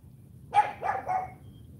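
A Cane Corso barks on command, giving three short, loud barks in quick succession, close by over a low background hum.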